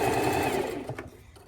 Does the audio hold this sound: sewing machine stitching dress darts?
yes